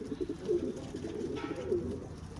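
Posta pigeons cooing nearby, a few soft low warbling coos repeating steadily over faint background noise, with no talking.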